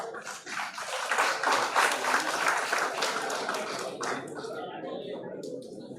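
Audience applauding prize winners at a university project expo valedictory ceremony, a sustained wash of many hands clapping that swells early, then thins and tapers toward the end, with some voices mixed in.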